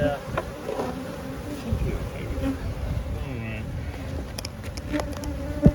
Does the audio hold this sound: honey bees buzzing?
yes